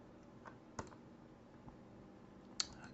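A few sharp computer mouse clicks, isolated and fairly faint over a quiet room hum, with one louder click near the end.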